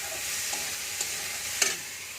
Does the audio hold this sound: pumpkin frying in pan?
yes